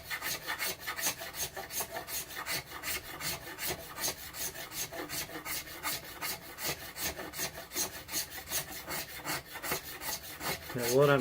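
A file rasps back and forth across a knife handle made from a chainsaw bar, thinning it down with steady, rhythmic strokes about two per second, close and continuous with no talking.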